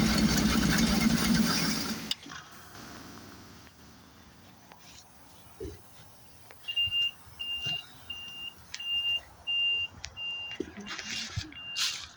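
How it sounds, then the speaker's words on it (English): A run of short, evenly spaced electronic beeps sounds inside a GMC 6000 truck with air suspension and no oil pressure, over low engine rumble and occasional clanks. "got something beeping in there"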